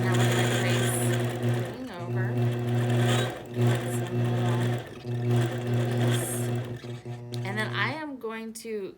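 A long arm quilting machine stitches through a quilt with a steady, close mechanical hum, pausing briefly a few times before stopping near the end, while a person talks over it.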